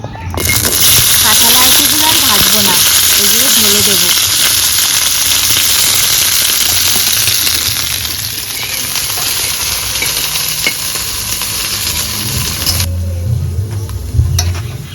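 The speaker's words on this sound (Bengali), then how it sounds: "সবশেষে পুঁই শাকগুলো ভেজে নেব" Malabar spinach (pui shak) leaves frying in oil, a loud, continuous hissing sizzle with stirring scrapes, a voice talking over it early on, and the sizzle dropping away near the end.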